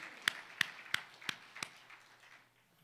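Congregation in a church service giving a few sharp, separate claps, five distinct hits in about two seconds, moderately faint and fading into quiet room tone.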